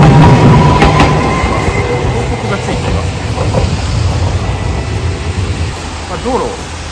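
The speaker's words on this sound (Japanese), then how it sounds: "浜寺駅前行きの路面電車になります。" A Hankai tram bound for Hamadera-ekimae rolls through Osaka streets after waiting at a traffic signal, a steady low rumble of wheels and motor with faint rail clatter and brief squeals; voices murmur over it.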